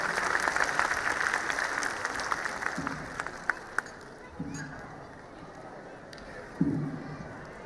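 Applause from an audience welcoming a guest at a school annual function, a dense sustained patter of many hands filling the hall, with a few louder thumps and a voice over a loudspeaker.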